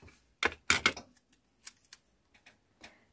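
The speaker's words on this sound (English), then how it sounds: "I'm going to tape that down right now." Tape is pulled and pressed down to fix a journaling card into a journal, giving quiet close-up crinkles and taps in a short irregular cluster.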